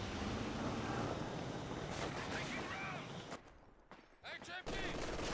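MG42 machine gun fire in Company of Heroes 2, dense rattling bursts within a loud, crowded battle soundscape that briefly thins before firing resumes, with voices mixed into the noise.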